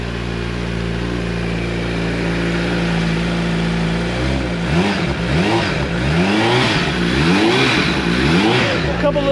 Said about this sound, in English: Couple little baby revs, a little noise